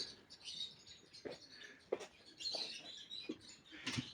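Budgerigar chicks in a breeding aviary give faint, scattered high chirps and squeaks, soft and close, with short bursts spread across a quiet background.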